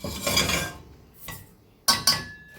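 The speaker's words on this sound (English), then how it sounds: "And now we put it into the pot." Ingredients going into a cooking pot for saltine cracker toffee, heard as a few clattering, clinking knocks of metal and utensils against the pot, with separate sharp hits near the end and quiet gaps between, no talking.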